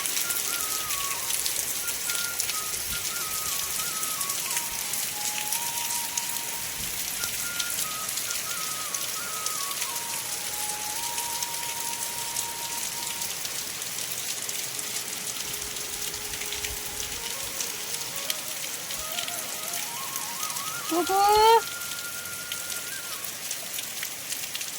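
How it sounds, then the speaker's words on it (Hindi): Rain falls steadily outside a hillside home, a dense even hiss that continues throughout, with a thin whistling tone drifting in and out and a brief sharper sound near the end. "तो थोड़ा सा ना हम भी बाहर बारिश देखते हैं कैसी बारिश लगी है।"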